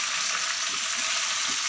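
Chicken sizzles and fries in hot oil in a home kitchen, a steady close crackling hiss with faint soft bumps underneath and no talking.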